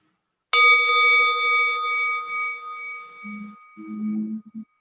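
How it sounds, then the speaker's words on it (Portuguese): A meditation bell is struck once and rings out with a bright, sustained metallic tone and shimmering overtones that slowly decay, ending in a few soft low knocks. "daqui a pouco eu vou convidar o sino a soar"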